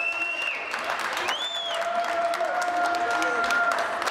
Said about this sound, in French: Leur intervention musclée est applaudie par les vendeurs de la société.